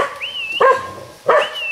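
A dog gives two sharp barks about half a second apart, each with a whiny, rising whimper before it, loud and close, with no talk.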